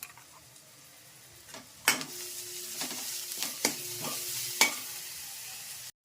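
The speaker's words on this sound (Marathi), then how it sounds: "कांदा ऑरेंज झाल्यावर मस्तपैकी हिरवं वाटण परतून घ्यायचं आहे." Green masala paste being stir-fried with browned onions in a pan: a quiet, close sizzle punctuated by several sharp spoon scrapes and taps, ending abruptly.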